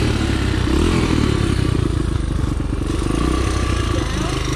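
Dirt bike engine running steadily and loud throughout, a close, continuous rumbling idle with clattery mechanical texture, while voices talk over it.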